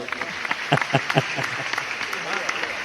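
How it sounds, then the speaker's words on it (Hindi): A seated crowd at a Hindi comic poetry gathering claps briefly while a performer's amplified voice carries on over the top, the clapping dense but short and soon fading under the speech. "एक बार तालियां बजाओ आप लोग"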